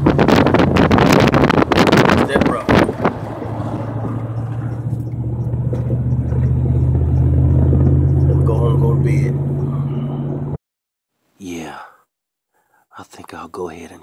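A fishing boat pounds across rough water on a windy day, its engine a loud droning rumble under heavy wind buffeting the microphone. The engine cuts off abruptly near the end, followed by brief scattered bumps and voices.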